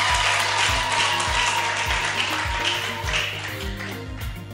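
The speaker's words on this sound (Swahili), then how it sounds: "Hebu piga makofi kama kweli unapona." Congregation clapping in a steady rhythm during a church wedding service, loud and continuous, with music playing alongside the claps.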